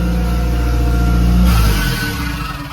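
A Subaru WRX engine revs loudly up close, its pitch climbing then dropping as the car is shifted into second gear, a steady mid-to-low growl lasting a few seconds with no talking.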